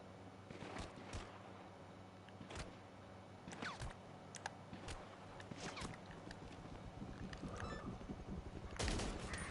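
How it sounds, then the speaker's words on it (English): Rapid bursts of gunfire in the game GTA Online, with scattered single shots and machine-gun-like volleys spread across the clip, a heavier burst near the end, and keyboard-like clicks between them. "Why are you shooting me?"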